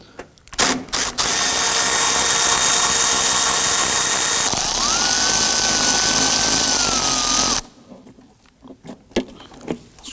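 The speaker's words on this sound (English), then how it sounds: "We're going to use a long extension, 10 mil socket." A socket wrench on a long extension with a 10 mm socket turns a nut off a 2018-2024 Toyota Camry 2.5L coolant reservoir, giving a close, loud, continuous ratcheting clatter for about seven seconds before stopping.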